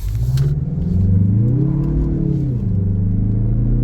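A 2023 Mazda CX-30 Turbo Premium Plus accelerates hard to 60 mph on an open road, its engine revving loud and steady inside the cabin with a rising, sweeping tone throughout.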